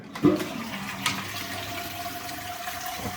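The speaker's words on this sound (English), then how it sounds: "It seems to be flushing okay now." A toilet flushes during a plumbing job, opening with a sharp clunk of the handle, then a steady rushing and gurgle of water refilling the bowl and cistern, heard close and moderately quiet with no talking.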